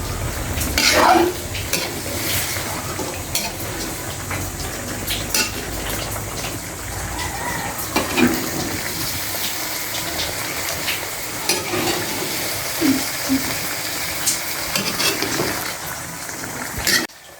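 A utensil scrapes and clanks irregularly while stirring pork and chicken in a pan, over a continuous sizzling fry nearby.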